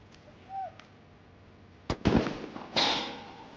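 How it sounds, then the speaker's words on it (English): Gunshots ring out at an elite police SWAT challenge. Two or three sharp reports crack at a distance with a brief echo, after a faint chirp and small clicks, and no voices. "There's the first shot away"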